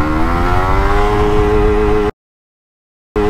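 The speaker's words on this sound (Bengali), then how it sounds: "আর এই পাওয়ার চেক করার জন্য এটার ফার্স্ট, সেকেন্ড এবং থার্ড গিয়ারের টপটা আমরা একটু চেক করছিলাম" A Suzuki Bandit 150 motorcycle engine revs hard and climbs steadily in pitch as it pulls through the gears, loud and close, then cuts out into a second of silence before the engine note returns.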